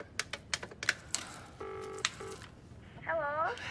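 A telephone is dialed, a quick run of separate key tones followed by held dial tones and a warbling ring, close and clear, with a voice speaking briefly over it.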